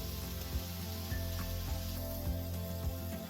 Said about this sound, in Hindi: सेम को लगातार चलाते हुए हम पकाएंगे कम आंच पे।